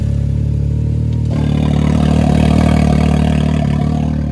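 A Can-Am Maverick X3 engine runs with its muffler valve open, a loud, deep, throaty idle that rises and grows rougher partway through as the revs pick up, with no speech.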